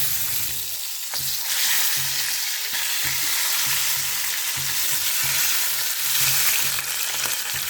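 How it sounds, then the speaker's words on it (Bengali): Hilsa fish tails fry in mustard oil, giving a continuous, even bubbling sizzle throughout with occasional soft stirring knocks, close and alone without talk. "আমি এখন লেজগুলি দিয়ে পাল্টিয়ে রেগুলার যেভাবে ইলিশ মাছ আমরা ভাজি সেভাবে ভেজে নেব"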